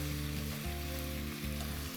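Apple pieces sizzle in a hot pan while tomato soup is being cooked, a steady close frying hiss over a low hum, with a brief stir partway through.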